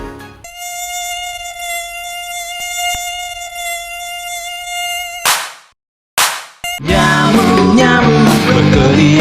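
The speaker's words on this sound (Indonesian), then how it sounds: "Nyamuk-nyamuk berkeliaran, bisa-bisanya kau lewat di depan mataku." Mosquitoes whine loudly and steadily in a malaria health-education setting. The thin, sustained buzz holds for about five seconds, then cuts out abruptly before a burst of busier, mixed noise.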